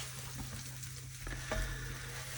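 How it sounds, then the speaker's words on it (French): Buttered bread slices toasting gently on a griddle plancha with a drizzle of olive oil, a soft continuous sizzle with a low steady hum beneath and one or two faint scrapes, quiet and close. "on va mettre nos pains à toaster en douceur"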